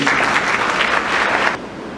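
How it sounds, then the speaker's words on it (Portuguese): Steady applause from a church congregation at a Sunday service fills the room, loud and continuous, then drops off abruptly partway through, leaving a quieter hum. "Só quem crê, aplauda o Senhor."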